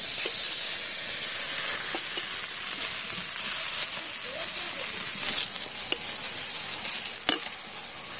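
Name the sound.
aubergine frying in mustard oil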